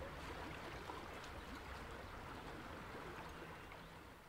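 Steady, continuous water flowing in the German video game Die drei ??? Gespensterjagd, a broad even rush like a stream running throughout, alone with no voices and easing slightly toward the end.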